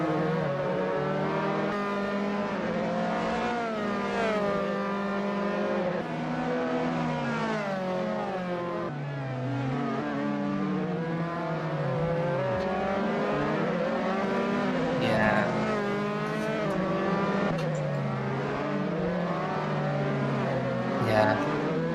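Dallara F317 open-wheel race cars in a sim racing game at the Greifswald track, engines whining and shifting through rising and falling revs for a long continuous stretch, with no voices heard.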